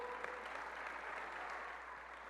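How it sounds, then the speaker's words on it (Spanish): Audience applause at a church conference, a continuous wash of many hands clapping, distant and faint, holding steady without voices standing out. "Dale un buen aplauso a nuestro Dios, mi amado."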